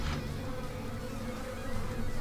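Swarming mosquitoes in the Dead Space video game make a continuous faint, droning insect buzz over a low ambient hum.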